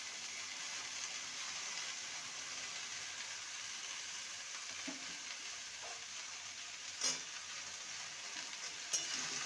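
Nate (amaranth) greens being stirred in a frying pan, a steady soft sizzle with faint scraping and a couple of sharp utensil taps near the end, no voices.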